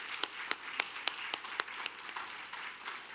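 Scattered applause from a small church congregation, with distinct individual claps landing in a loose, fairly steady rhythm before fading out.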